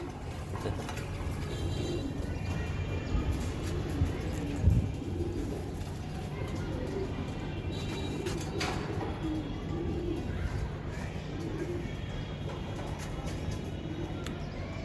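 Big-sized Giribaz high-flyer racing pigeons, including a silver bagha type, coo in low continuous murmurs from a loft, with a dull steady background hum and faint distant traffic.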